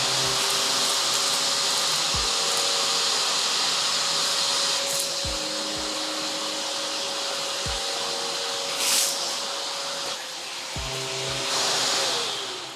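An American Micronic 21-litre 1600 W wet and dry vacuum cleaner with a floor brush runs steadily, a loud continuous whooshing roar as it sucks up debris, with a few dull clicks and brief surges in airflow.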